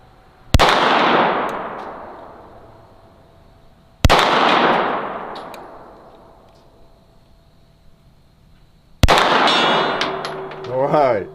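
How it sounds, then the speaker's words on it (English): Bullets striking a steel gong target at a shooting range, with three sharp metallic clangs several seconds apart, each ringing out and slowly decaying; a short voice murmurs near the end. "Let's go on over there to the gong."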